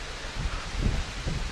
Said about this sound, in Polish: No teraz zerwał się naprawdę mocny wiatr.